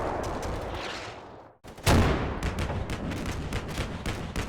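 Incoming artillery fire in the war game Combat Mission Black Sea: a rumbling roar fades to a moment of silence, then a loud blast hits and a rapid rattle of further shots and impacts follows.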